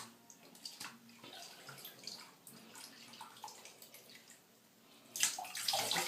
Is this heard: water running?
yes